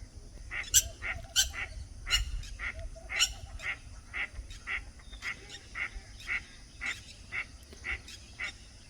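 Native country ducks honk and quack in a forest setting, a steady run of loud, close calls repeating every half second or so for about nine seconds with no talking.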